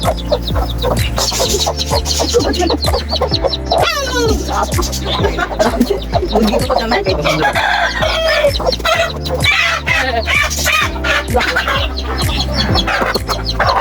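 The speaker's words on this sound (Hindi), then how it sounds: "चूजा देख रहे हैं आपका" A black chick cheeps near a clucking hen, with loud, repeated poultry calls running throughout over a steady background of music.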